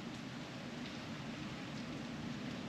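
Steady rain hisses evenly throughout, a dense unbroken wash of falling water heard from inside a vehicle.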